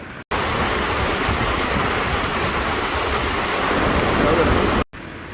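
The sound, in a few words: flowing water in Kumrat Valley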